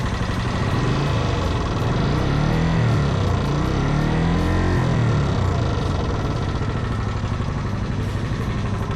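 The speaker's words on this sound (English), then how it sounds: "And the sound of the valves, it's bad" A Suzuki GN 250 motorcycle engine running loudly and continuously close up, with a rough, ticking valve clatter from badly adjusted valves layered over the drone.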